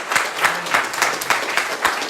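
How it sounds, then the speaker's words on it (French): A church congregation clapping after a prayer, quick rhythmic claps close by in a roughly steady beat, several in under two seconds. "Applaudissons un peu."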